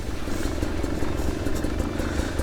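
A hard enduro motorcycle climbs a hill, its engine a steady, loud, close drone with some mechanical clatter throughout, without any talk.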